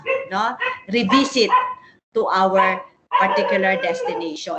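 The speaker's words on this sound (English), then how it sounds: "I'm sorry for the barking dogs" Dogs bark in the background behind a woman lecturing on qualitative research during an online session; the barks are mostly buried under her steady talking.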